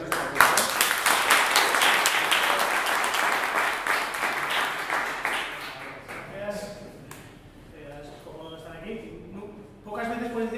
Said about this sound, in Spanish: Un fuerte aplauso porque ha venido esta aquí